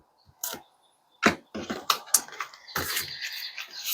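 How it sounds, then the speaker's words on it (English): Close, soft flicks and papery riffles of oracle cards being shuffled in short bursts, ending in a longer continuous shuffle. "Alrighty, one more shuffle"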